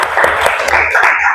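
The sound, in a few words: class applause after student drama presentations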